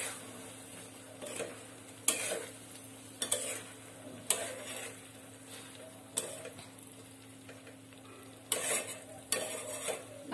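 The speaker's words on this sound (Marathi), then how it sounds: "आता आपण छान मिक्स करून घेऊया" Fried eggs being stirred into egg curry in a pan over low gas: a spatula scrapes and taps the pan in irregular bursts over a quiet background sizzle, no talking.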